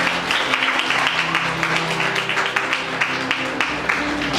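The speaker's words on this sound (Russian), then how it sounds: "Ваши аплодисменты" Wedding ceremony guests clap steadily in applause, a dense continuous patter over soft background music, with no talking.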